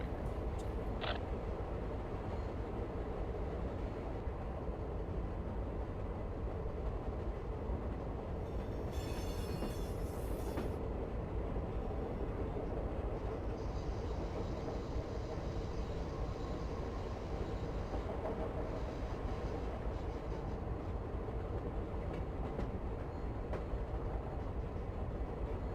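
Amtrak #3 Southwest Chief passenger train running on main track in the Run 8 train simulator, a steady broadband rumble of rolling wheels and engine throughout with a brief high squeal partway through.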